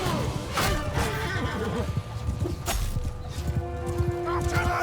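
Cavalry horses neigh repeatedly in a Mount and Blade II Bannerlord battle, loud and near over a dense wash of battle noise and hoofbeats, with a voice talking throughout.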